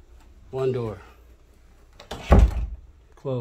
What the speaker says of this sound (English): One of the doors closed.